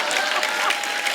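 Studio audience applause on a comedy talk show: a dense, loud, steady burst of many hands clapping, close and continuous for about a second.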